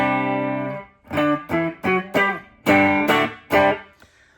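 An electric guitar plays a clean tone on the neck pickup, a sustained chord followed by a series of short plucked chords and notes in an uneven rhythm, close and clear, ringing alone without talk.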